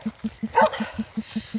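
A dog gives a short bark or yip at night, distant and brief, over a steady rhythmic low pulsing background.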